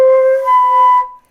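A single thin, airy high G on flute, played with too little air, breathy and wavering slightly, held about a second before fading out.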